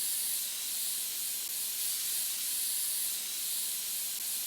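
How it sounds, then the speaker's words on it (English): A can of compressed air sprays dust off computer parts with a loud, continuous piercing hiss that holds steady for several seconds, alone and close. "I'm gonna spray the dust. It's pretty loud."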